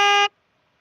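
A news vehicle's car horn gives one short, loud, steady honk lasting about a quarter second, then cuts off into silence.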